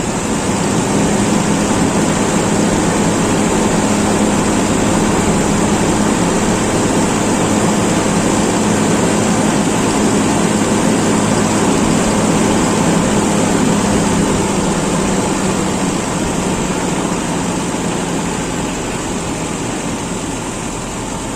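Toyota Kijang engine fitted with an Aisan carburetor revving at high RPM, a loud continuous roar that holds steady throughout and eases slightly toward the end.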